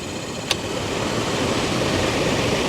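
A new Toyota Tundra blower motor fan running on low, a steady broadband whoosh with one short click near the start, no talking.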